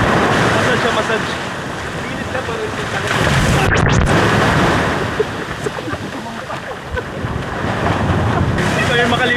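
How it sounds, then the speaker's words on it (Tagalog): Big ocean waves break and surge at La Paz Beach in San Narciso, Zambales, a loud, continuous roar of surf swelling and easing, mixed with heavy wind buffeting the microphone. "Ang lalaki ng alon no."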